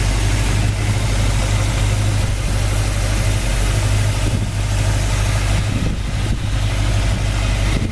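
A 1967 Ford Mustang convertible idles smoothly and steadily, a continuous close low rumble with an even, unbroken tone throughout and no voices.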